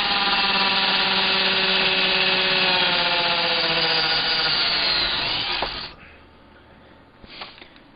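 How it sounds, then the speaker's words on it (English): Cordless drill boring a pilot hole through wood while building a cell chamber, a loud steady motor whine with the bit grinding, cutting off abruptly near the end and followed by a brief faint rustle. "At least I got the pilot hole drilled through."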